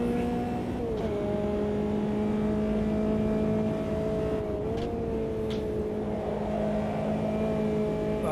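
A historic touring race car in a sim racing game holds a steady, high-revving engine drone while slipstreaming behind another car, its pitch dipping slightly twice as the throttle shifts, with no talk over it.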